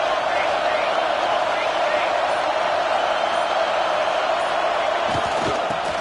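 Dense roar of a stadium crowd at a college football game, loud, steady and sustained throughout, with a commentator talking over it.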